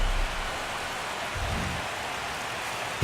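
In MLB The Show 17, heavy rain falls over Fenway Park in Boston at a baseball game, a constant broadband hiss with a low rumble swelling briefly midway.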